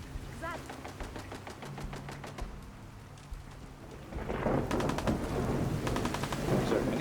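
Gunfire in the game Fallout 4, with rapid bursts of shots crackling over a rumbling, rain-like background that grows louder midway, with talk mixed in.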